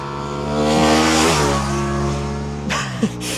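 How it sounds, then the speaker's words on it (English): A motorbike engine swells as it passes close by, its pitch sliding downward as it moves away and fades. "Another motorbike"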